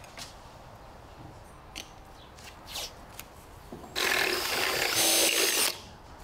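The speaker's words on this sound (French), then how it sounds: "Perce ensuite partout à travers le cadre avec un foret à métaux." A power drill with a metal bit bores through a window frame during a window replacement. After a few light handling knocks, the drill whines out in one steady, close burst lasting nearly two seconds.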